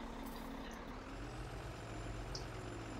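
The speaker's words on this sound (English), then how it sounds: "Kentucky truck is loud." Truck engine from a farming video game rumbles low and steady, with air brake hiss and reversing beeps faintly in the background.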